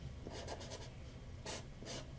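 A pencil draws on paper in quiet, close scratching strokes, with a quick run of short marks followed by two longer sweeps and brief pauses between them.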